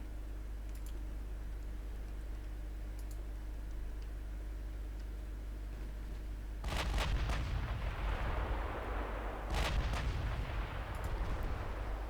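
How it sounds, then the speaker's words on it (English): Naval 6-inch secondary guns fire in the video game Ultimate Admiral Dreadnoughts, two heavy booming salvos with rumbling tails rising abruptly over a low, steady engine-like drone, fairly distant and subdued, with no talking. "6-inch guns, secondaries. Very effective when the enemy doesn't have armor."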